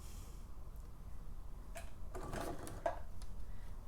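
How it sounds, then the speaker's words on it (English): A home sewing machine stitching fold-over elastic onto fabric, giving a quiet, brief mechanical whirr of rapid stitches with a few faint clicks around it, close by and alone. "I'm going to hold it as I stitch it."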